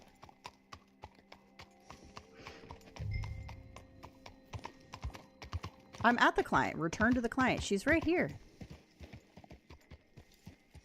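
Horse hooves clip-clopping in Red Dead Online, a steady rhythmic trot throughout, with a horse whinnying loudly partway through and people talking over the hoofbeats.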